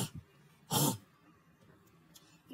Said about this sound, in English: And if you judge my cough